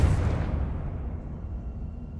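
A Confringo spell explodes in Hogwarts Legacy with one heavy low boom at the start, then a rumbling tail that fades steadily over about two seconds.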